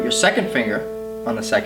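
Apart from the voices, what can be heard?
None of the usual background noises is heard.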